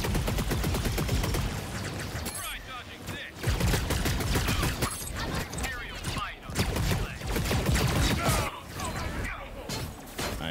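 Rapid bursts of blaster gunfire in the arena shooter Star Wars Hunters, dense and loud, with brief pauses between volleys and a player talking over the shooting.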